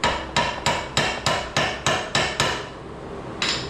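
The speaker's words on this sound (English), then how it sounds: "Sometimes you gotta hammer on them a little bit to get them to come out." A hammer taps out cone washers on an 80 Series Land Cruiser: eight crisp metallic strikes at a steady, even rhythm, a pause, then one more knock, close and clear.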